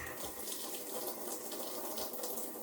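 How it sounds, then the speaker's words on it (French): Water running steadily from a household tap, opened to release pressure while replacing water filters, a continuous close splashing hiss with no pauses. "Une fois que la vanne est fermée, on ouvre un robinet dans la maison"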